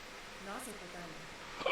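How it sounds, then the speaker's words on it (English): An anime character's voiced hiccups come as a short series of quick, throaty catches at moderate volume, over a quiet background. "Hiccups."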